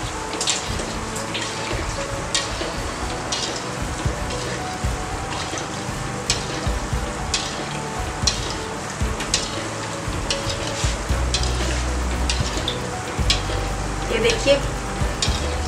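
Gulab jamun fry in hot oil while being stirred up from the bottom of the pan, giving a steady soft sizzle with faint scraping and bubbling throughout, under occasional quiet talk.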